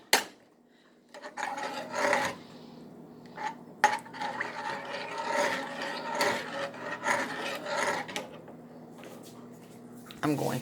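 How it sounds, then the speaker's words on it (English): Dishes and utensils scrape, rub and knock against a kitchen counter as they are moved aside while making macaroni and cheese, a steady stretch of close handling noises with a couple of sharper clacks. "I'm going to put these dishes"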